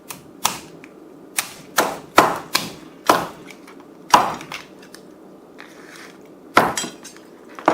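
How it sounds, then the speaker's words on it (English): A knife chops lengthwise through a lobster tail on a cutting board with a series of sharp, loud thuds and cracks at irregular intervals, close up and without talk. "We're going to cut the tail lengthwise."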